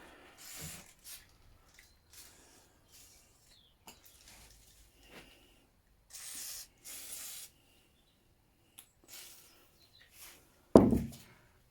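Lubricant sprayed onto seized engine parts of a Yamaha barn-find motorcycle during restoration stripping, a few short hissing bursts at close range separated by quiet handling noises, ending with a loud clunk.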